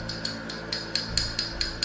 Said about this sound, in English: Give me a hammer and let's go for it.